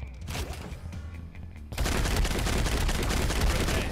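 Rapid gunfire from a powerful weapon in the shooter game Blitz Brigade, starting as scattered shots and then bursting into a loud, dense sustained barrage for the last two seconds, close and overwhelming.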